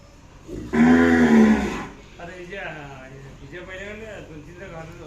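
A Khillar cow in a herd gives one loud, drawn-out moo close by, and people then talk over the quieter farm background.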